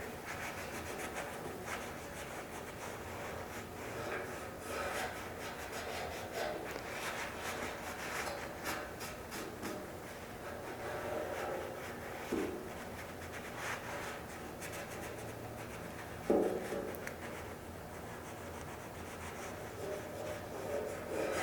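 A rag soaked in lacquer thinner wipes down a motorcycle fuel tank during restoration, giving a steady, close scrubbing and rubbing texture for about twenty seconds, with a couple of brief knocks near the end and no talking.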